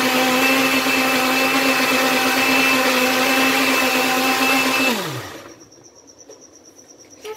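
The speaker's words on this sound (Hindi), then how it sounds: "मैंने इसके अंदर थोड़ी सी चीनी ऐड की है, और दोबारा मैंने इसको ग्राइंड किया है।" A kitchen grinder blends a popsicle mixture with added sugar, a loud steady motor whir that holds for several seconds and then winds down to a stop.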